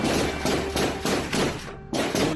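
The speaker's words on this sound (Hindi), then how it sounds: "गोलियों की आवाज" Loud, heavy bursts of gunfire during a security forces' encounter with militants, repeating at a rapid, fairly even pace, with a brief gap before the shooting resumes.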